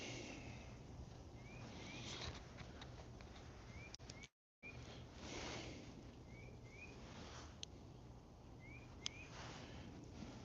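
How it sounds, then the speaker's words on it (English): Several faint, far-off bird whistles outdoors in cold weather, short rising notes repeating in pairs over a quiet background with a brief dropout partway through. "There's some kind of bird whistling."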